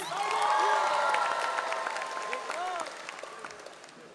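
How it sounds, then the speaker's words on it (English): Applause and cheering from a crowd at a high school graduation ceremony, loudest at first then tapering, with voices and whistles mixed in over the clapping. "please give a very big round of applause for our athletic coordinator, Gregory Wise"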